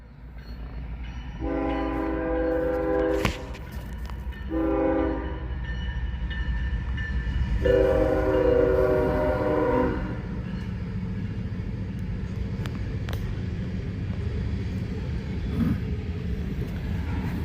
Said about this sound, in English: Now this is just a local coal train.